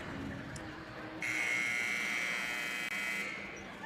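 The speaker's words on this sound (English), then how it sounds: "There's the buzzer." A high school basketball game buzzer sounds loudly in the gym, one sustained electronic blare lasting about two seconds, with crowd murmur around it.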